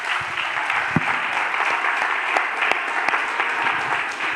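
A Pentecostal church congregation claps for Christ, a dense, even wash of many hands with no pauses, steady and moderately loud throughout.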